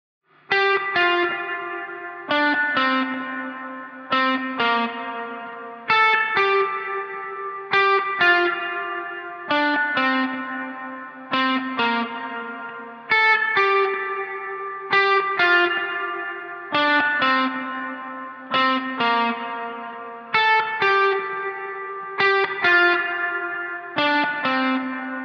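A lone electric guitar plays repeated chord stabs in a steady rhythm, with a light effected, slightly distorted tone and a short plate reverb tail from a Source Audio Collider pedal after each hit.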